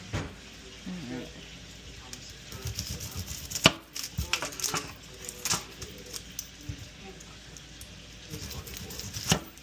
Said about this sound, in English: I'm gonna cut my onion